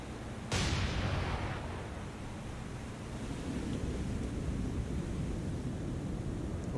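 Destroyer secondary guns firing in the naval video game War on the Sea, a sharp loud report followed by a long rumbling decay over steady ocean-like noise, no talking.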